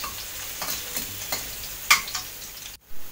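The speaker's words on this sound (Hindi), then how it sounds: "हुण तेल जदों गर्म हो जाएगा तां आपां पहलां लसुण पा देंगे। लसुण नूं आपां गोल्डन ब्राउन कर लांगे।" Garlic frying in hot oil in a kadhai gives a steady close sizzle, with occasional soft stirring scrapes and a brief clatter near the end; no speech.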